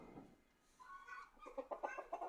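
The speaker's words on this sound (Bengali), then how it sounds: "এই যে দেখুন আমার রাতাটা" A backyard rooster clucks in a short run of close, rising calls, with hens kept nearby on a small home poultry farm.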